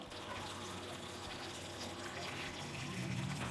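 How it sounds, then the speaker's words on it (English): Hot water poured into a cooking pot of pork curry with dried red chilies and ginger, a steady, soft gush of liquid filling the pot without a break. "add 1 liter of hot water"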